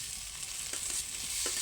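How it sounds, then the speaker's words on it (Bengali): Potatoes going into spiced masala frying in a pan, with a steady sizzle and a few soft stirring scrapes and knocks, close and fairly quiet, no talking. "মশলাটা একদম ভাজা হয়ে গেছে।"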